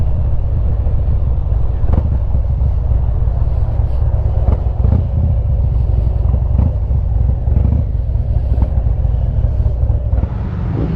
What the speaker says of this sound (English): Sheldon's Harley Davidson.